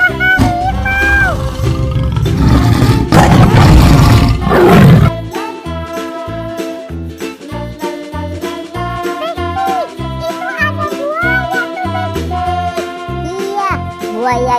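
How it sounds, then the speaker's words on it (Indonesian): A tiger at a zoo gives a loud, harsh roar for about five seconds, then bouncy music takes over for the rest of the clip. "Iya, ada harimau."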